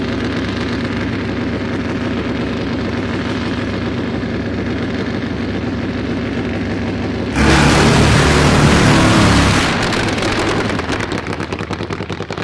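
A street drag bike launches hard down a drag strip at a street challenge event, a sudden loud, roaring engine blast with crackling exhaust that holds full power for a few seconds, then eases as it pulls away, following a steady staging rumble.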